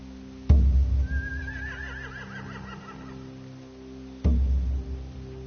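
In The Walking Dead video game, a horse lets out a loud, wavering whinny between two heavy thuds, near and clear with no talk over it.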